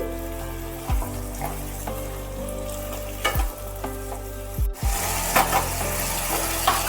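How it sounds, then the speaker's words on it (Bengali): Potatoes fry loudly in a pan with salt, a constant close sizzle marked by three heavy scraping thumps of a spoon stirring them, and no one speaking. "লবণ দিয়ে একটু নাড়িয়ে চাড়িয়ে দিচ্ছি"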